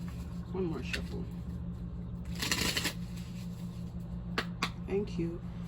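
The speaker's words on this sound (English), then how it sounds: "One more shuffle." A deck of cards being shuffled at close range, with a couple of soft papery riffle bursts and a few light flicks over quiet room tone.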